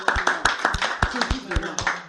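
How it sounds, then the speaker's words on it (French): A church congregation claps along in a quick, steady rhythm, the many hands close and lively in a worship service. "Applaudissons pour le Seigneur"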